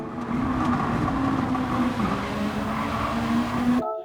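Race car engine in a racing video game at the Suzuka circuit, a steady high-pitched whine held under throttle with tire squeal, close and continuous for about four seconds before cutting off abruptly.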